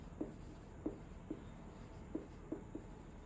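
A pen writes the definition of refraction on paper in a quiet room, with six or so faint, separate scratchy strokes spaced irregularly over a low background hum.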